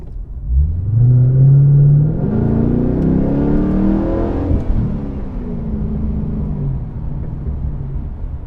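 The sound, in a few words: V8 sedan engine revving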